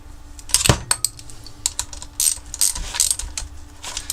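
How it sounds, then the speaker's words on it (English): Sharp ratchet clicks in quick bursts tighten bolts on a Range Rover's Wabco air suspension, close and crisp, with short pauses and a metallic clunk between runs. "Let's get those bolts tightened up again now."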